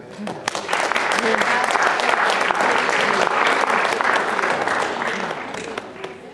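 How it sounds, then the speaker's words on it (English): A crowd at a high school awards ceremony applauds loudly and steadily for several seconds, dense clapping that swells and then tapers slightly toward the end. "give it one more round of applause"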